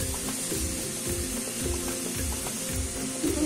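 Sliced onions sauté in a pan, a continuous close sizzle broken by rhythmic scraping stirs roughly every half second, with no one speaking.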